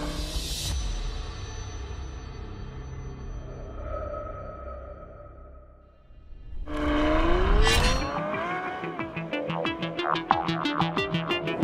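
A Ferrari 812 Superfast V12 spins up after a lull, rising in pitch through a hard rev, then barks through rapid sharp gear-change crackles and pops, close and loud, no voices.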